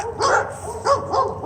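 Dogs barking in the background, with three or four sharp yappy barks in quick succession, fairly loud and close, with no talk over them.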